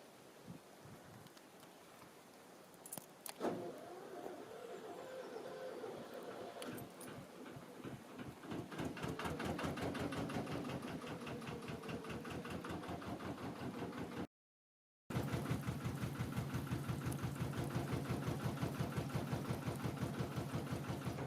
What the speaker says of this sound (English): that did not sound like a very healthy engine